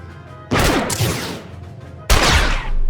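Rapid gunfire from a Star Wars: The Old Republic cinematic on Nar Shaddaa: two loud, dense bursts of overlapping shots crash in, one after the other, close and harsh.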